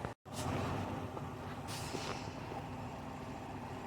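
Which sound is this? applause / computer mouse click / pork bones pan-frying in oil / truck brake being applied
truck brake being applied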